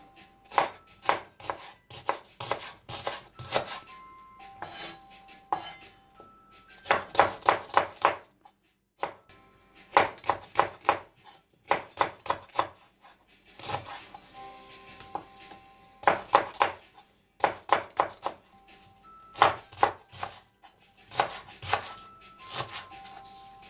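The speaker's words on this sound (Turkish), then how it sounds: "Pırasalarımızı elips şeklinde kesiyoruz." Rapid bursts of a knife slicing leeks into ovals on a cutting board, quick rhythmic strokes in clusters separated by short pauses, close and crisp with no talking.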